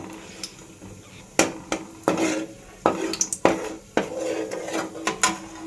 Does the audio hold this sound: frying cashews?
yes